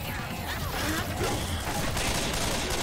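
Rapid gunfire in the Left 4 Dead 2 video game as players shoot at zombies, a dense continuous volley of shots mixed with game chaos, loud and unbroken, with voices faintly under it.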